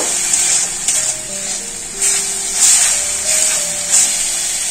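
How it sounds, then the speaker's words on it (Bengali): Garlic and ginger paste frying with browned onions in a pan, a steady close sizzle and crackle with small bursts of spatter throughout, no voices. "একটু ভেজে নেব।"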